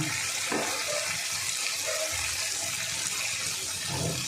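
Hot water poured into a cooking pot of sautéed spices, a steady close gushing splash that runs unbroken throughout.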